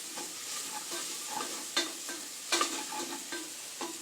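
Spiced onion masala frying in a pan for mutton curry, a close sizzle broken by a few sharp scrapes and clinks of the spoon as it is stirred, with no talking.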